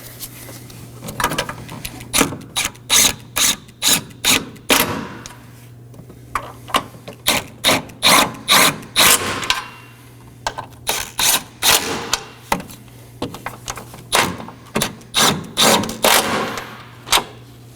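Ratchet snugging 13mm nuts on the transmission mount of a 2018-2024 Chevrolet Equinox, heard as repeated bursts of rapid clicking, close and fairly loud, with short pauses between strokes and a low steady hum beneath.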